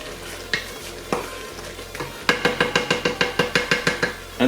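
Chili being stirred in a pot: a run of about a dozen evenly spaced scraping strokes, close and fairly loud, after a few isolated scrapes, over a steady low hum.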